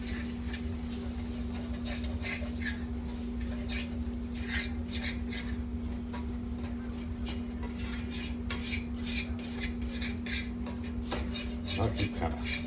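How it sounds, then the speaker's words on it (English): A spoon scrapes and clinks in a cast iron skillet as flour is stirred into sausage, giving repeated close metallic taps over a low steady background hum. "stirring it around there until all that flour is kind of holding on to that meat"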